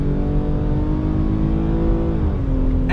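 A 2020 Ford Explorer Hybrid Limited accelerates on throttle. Its engine gives a loud, steady, close droning hum that rises in pitch toward the end, with no talk.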